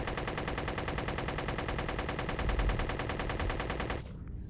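A Gat gun fires in a space shooter video game, a loud, steady stream of rapid automatic shots that goes on without a break for about four seconds and then cuts off abruptly.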